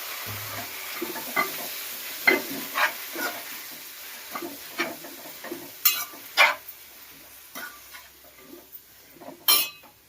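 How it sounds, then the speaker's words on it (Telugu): Gongura leaves fry in oil in a pan for chutney, a low sizzle under repeated spatula scrapes and clinks against the pan at an uneven pace, close and with no one speaking. "అదే నూనెలో నెక్స్ట్ మనం గోంగూర వేసుకోవాలండి అదే నూనెలో బాగా వేగనివ్వాలి"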